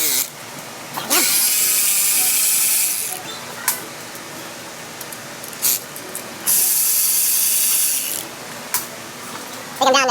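A ratchet wrench loosening oil pan bolts underneath a Chevy Express 2500 with a 6.0 engine, loud and close, sounding in long bursts of rapid clicking separated by short pauses and a few isolated clicks.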